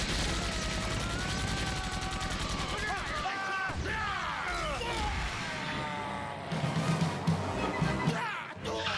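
Rapid bursts of gunfire fired as a warning shot in an animated science-fiction battle scene, crackling under engine-like rumble and brief shouted voices.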